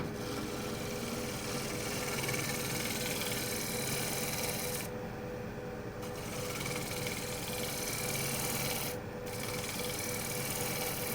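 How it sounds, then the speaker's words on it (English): Wood gouge shear scraping the surface of a turned chestnut bowl on a lathe, a continuous close rasping rub under a steady machine hum, briefly easing twice as the tool lifts. "I'll sharpen the gouge one more time and shear scrape it just to get a little better"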